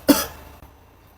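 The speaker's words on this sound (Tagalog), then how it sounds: "Totoo na ba tong ubo nyo o pinipeke nyo pa din?" A single sharp cough, close and fairly loud, in a comedic family skit at home, followed by a short tail and near-silence.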